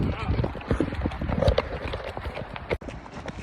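Horse hooves clip-clop on a mountain trail on the way to Kaindy Lake in Kazakhstan, a close, uneven rhythm of hoof strikes with people talking over it.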